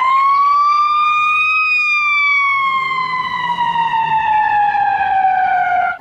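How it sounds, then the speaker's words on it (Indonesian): A toy ambulance sounds its siren in one loud, close electronic wail that rises briefly and then slowly falls, heard alone without speech. "Wih, ada mobil ambulans."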